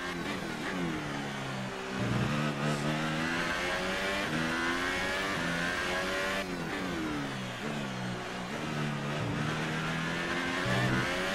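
Formula 1 race car lapping the Austin circuit in F1 2018, a loud continuous engine whine rising and falling through gear changes and revs, with brief tire squeal, heard alone and close throughout.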